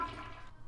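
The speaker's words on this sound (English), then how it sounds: "I just heard the toilet flush." A toilet flushes somewhere in a home, heard as a steady rushing gush of water that fades into a lower refill gurgle, faint and slightly distant, with no voices over it.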